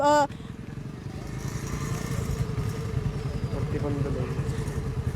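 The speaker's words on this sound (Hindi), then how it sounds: "जो लड़की है वो बाइक चलाते हुए यहाँ पर दिखाई दे रही है" A motorbike is ridden during a driving test, its engine putting out a steady, rhythmic low chug that stays close and continuous after a brief loud opening burst, with a few faint tonal sounds partway through.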